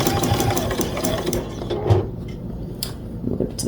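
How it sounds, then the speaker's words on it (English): A domestic sewing machine stitches down appliqué honeycomb shapes for a quilt border, running in a fast, even mechanical patter that slows and stops partway, then picks up again faintly. "I'm going to sew right down the middle of those, and basically I'm going to applique both of those shapes down at the same time"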